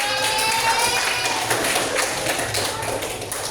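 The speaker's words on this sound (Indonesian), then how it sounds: "tepuk tangan dulu untuk kelompok 1" A classroom of students claps for group 1 during an Indonesian language lesson, a steady patter of many hands in moderately loud applause that thins slightly toward the end.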